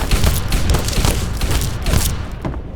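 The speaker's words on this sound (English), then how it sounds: "He's shooting at a dead body." Rapid, dense gunfire and booming impacts fill a battle in the video game Fallout 3, loud and continuous before easing off at the end.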